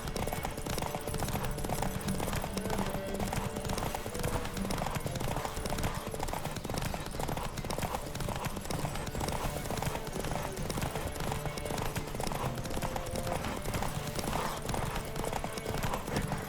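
Rapid, continuous hoofbeats of a galloping horse in the video game The Witcher 3: Wild Hunt clatter on and on, with faint background noise and occasional muffled voices.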